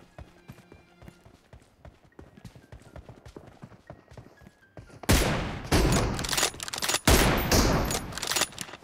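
M24 sniper rifle fire in the mobile game BGMI: after a stretch of quieter rhythmic ticking, loud booming shots and crackling blasts dominate the second half, close and forceful.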